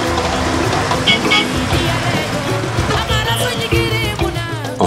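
Overloaded vehicle driving on a rough track, a loud rumbling engine with rattling and bumping amid traffic noise and a horn toot, close and continuous.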